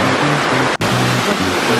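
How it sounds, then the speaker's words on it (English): Waterfall rushing right beside a hiking path in Indonesia, a loud, dense, steady roar of falling water heard close up, with one very brief dropout partway through. "We are literally walking with the waterfall."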